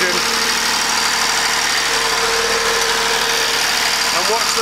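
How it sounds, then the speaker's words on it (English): An engine driving an asynchronous generator with a mechanical governor runs loud and steady, its note rising slightly as it speeds up, with faint speech over it. "now I'm going to speed up the engine"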